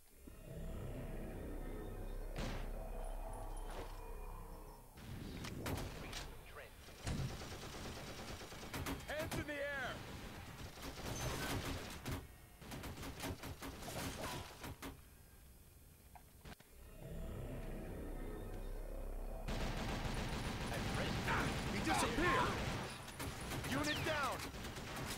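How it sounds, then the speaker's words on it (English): Bursts of turret gunfire from the video game TimeShift come in heavy, repeated volleys of rapid shots with loud blasts and crackling impacts, spread over a noisy battle scene with a stretch of quieter rumble between barrages. "Now, there's full-on turrets up ahead."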